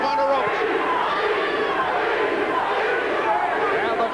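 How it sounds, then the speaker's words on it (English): A boxing crowd at a middleweight bout between John Mugabi and Frank Fletcher chants in a loud, sustained roar of many voices, filling the arena without a break. "the chant of peace from the crowd as Mugabi landed the big right hand"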